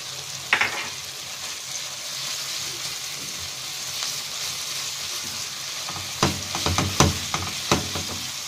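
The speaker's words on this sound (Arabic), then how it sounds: "هنحط الثوم المفروم ونقلب." Minced garlic frying in oil in a pan, a steady soft sizzle with a few brief scraping stirs near the start and a cluster of clattering stirs toward the end, close and alone.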